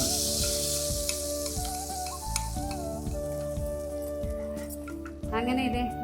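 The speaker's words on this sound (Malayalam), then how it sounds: "ഇനി കിസ്മിസും അണ്ടിപ്പരിപ്പും ഗാർണിഷ് ചെയ്യാൻ വേണ്ടി നെയ്യിൽ വറുത്തിടാം." Cashew nuts frying in hot ghee for garnishing Onam payasam give a continuous close sizzle and crackle under steady background music, with a brief stir or clatter near the end.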